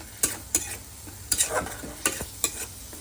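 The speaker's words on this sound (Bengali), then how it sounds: "এবার এটা একটু নেড়ে নেবো বেশি না একটু অল্প করে নেড়ে নিয়ে তাতে ডিমটা মিশিয়ে দেবো" Chili, turmeric and cumin powder stirred in a pan, a spatula scraping in quick regular strokes about every half second against a faint sizzle, close and with no talking.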